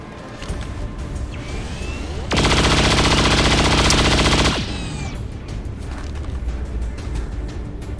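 Rapid pistol fire from the Dual Strike ability in XCOM 2: War of the Chosen, a loud, tightly spaced burst of shots lasting about two seconds, set against a busy rumbling background before and after.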